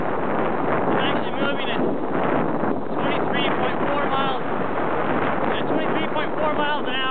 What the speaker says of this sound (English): Got the wind in my back